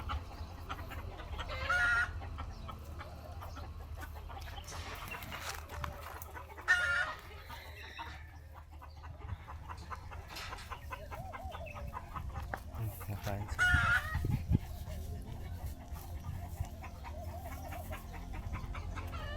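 Chickens cluck steadily on a farm while a rooster crows several times, all at moderate distance amid quiet background noise, with a person speaking softly now and then.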